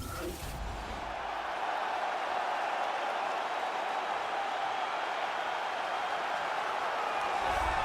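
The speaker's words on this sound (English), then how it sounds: "what a pop from the crowd as this guy makes the walk" Arena crowd roaring for a fighter's walkout in the video game EA UFC 3, a dense, steady cheer that swells slightly after a brief opening sound and holds loud to the end.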